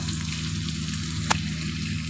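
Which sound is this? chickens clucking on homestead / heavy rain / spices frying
spices frying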